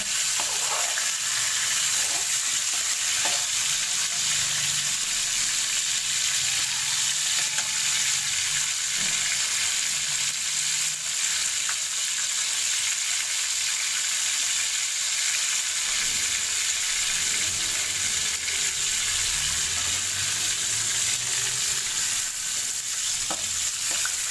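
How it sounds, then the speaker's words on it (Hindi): Food fries in a pan during a steam roast, a steady close hiss and sizzle that runs unbroken throughout, with faint occasional stirring and no talking. "इतना ज़्यादा फ्राई नहीं करना इसको"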